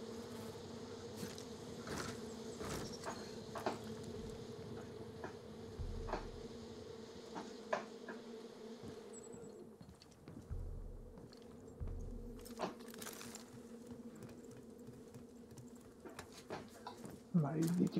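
Insects buzz in the Far Cry 5 game world, a steady droning hum that runs under ongoing talk throughout, joined by scattered clicks and game sounds.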